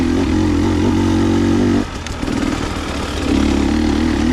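A 2020 KTM 300 XC-W TPI Six Days two-stroke dirt bike engine lugging in a high gear on a trail, a loud, low, steady drone that dips briefly mid-clip and then returns to full strength, with no talk over it.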